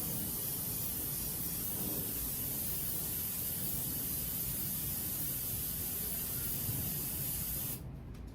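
Aerosol filter oil sprayed onto a Jeep Wrangler air filter as a second coat: one steady hiss running unbroken for about eight seconds, close and fairly loud, stopping abruptly at the end.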